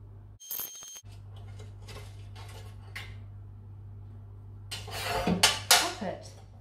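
Teaspoon scraping and clinking against a metal baking tin as mince pies are lifted out, close kitchen sounds over a steady low hum, growing busier toward the end.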